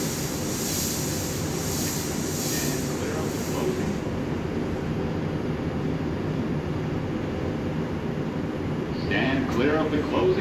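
R142 subway train in the OpenBVE train simulator hums and rumbles steadily while running, a continuous mid-level roar with a faint whine.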